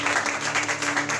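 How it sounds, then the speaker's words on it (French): A church congregation applauds during a Sunday service, the brief burst of clapping steady and moderately loud with a faint hum beneath. "Applaudissons le Seigneur."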